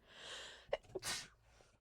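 A single sharp sneeze close by, preceded by a quick breathy intake and followed by quiet breathing.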